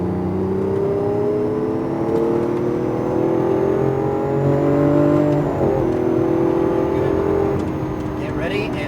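A Lamborghini Aventador accelerating on a racetrack, its engine pitch climbing steadily and loud and close throughout, with an instructor's voice talking over it.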